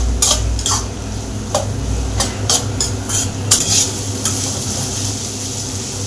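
Chopped onions and spring onions stirred and sautéed in a pan for spicy dragon chicken, a steady low sizzle under repeated scraping and clinks of a utensil against the pan, close and fairly loud, with no talking.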